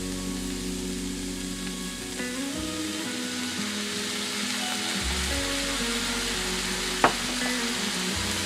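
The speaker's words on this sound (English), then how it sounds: "And stir it up." A coleslaw mixture with soy sauce sizzling in a pan while being stirred, a steady close frying hiss with a low hum under it and one sharp utensil clink near the end.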